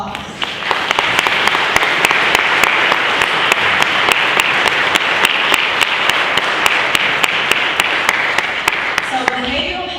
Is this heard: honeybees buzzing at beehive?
no